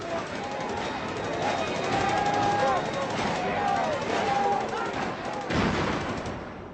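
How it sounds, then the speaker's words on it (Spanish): Repeated pistol shots crack out over the noise of a crowd of protesters, with faint wailing tones and shouting in the background. "Al final, los disparos de pistola consiguieron dispersar a la multitud."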